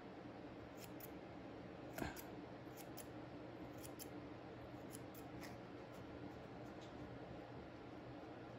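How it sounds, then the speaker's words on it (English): Scissors make quick, quiet snips while trimming the hair on the eyebrows of a sculpted bust, a scattered run of crisp clicks over a steady low hum, with one slightly louder cut partway through. "I'm just gonna trim"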